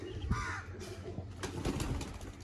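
Close, low cooing from a teddy pigeon, a few soft throaty calls over steady background noise with a faint flutter, no talking.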